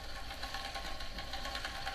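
A fast, even whirring with a rapid rhythmic buzz runs continuously, like a wheel spinning hard against a roller: a bicycle's rear wheel spinning against a magnetic-resistance trainer.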